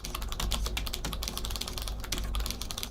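Quick, clicky laptop keystrokes on optical mechanical switches with 1.9mm of travel, a rapid irregular patter of fairly loud presses close up, with no talking.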